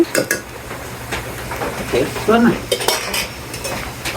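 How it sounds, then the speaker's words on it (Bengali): Onions and chilies frying in a pan for a banana mash dish, with a spatula scraping and clinking against the pan in short bursts and a soft sizzle underneath. "এই যে কলা ভর্তার জন্য পেঁয়াজ আর মরিচ ভাজা হলো"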